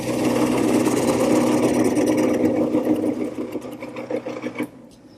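Wood lathe spinning a wooden bowl while a 1/2-inch bowl gouge hollows the inside: a steady motor drone with a rough, scraping cut, loud and close, easing off near the end.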